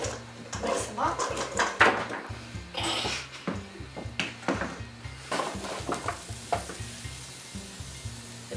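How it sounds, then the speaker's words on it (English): Food sizzles and crackles in a hot pan while utensils scrape and clatter, with a voice speaking intermittently over the frying. "The pan's already been preheated, sizzling a little bit."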